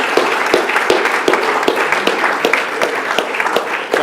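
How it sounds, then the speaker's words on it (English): An audience at a disaster preparedness meeting gives a round of applause for the speakers, steady dense clapping sustained throughout with a few sharper claps standing out, close and loud. "let's give our speakers a big round of applause."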